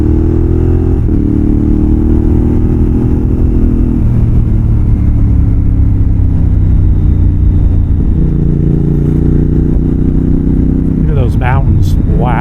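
A Moto Morini X-Cape 1200 adventure motorcycle rides winding mountain roads with a loud, steady engine drone that shifts pitch through the gears, close and continuous, with wind noise and a brief voice near the end.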